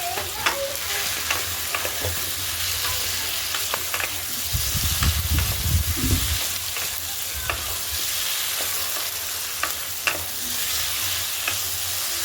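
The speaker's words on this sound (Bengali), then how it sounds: "তার মধ্যে একটা আগে থাকতে কেটে রাখা টমেটো কুচি দিয়ে দেবো, দিয়ে আলুর সাথে ভালো করে ফের ভেজে নেব" Potatoes and chopped tomato fry in a pan, a steady oily sizzle running throughout, with scraping stir strokes and a louder burst of frying midway as the mixture is turned.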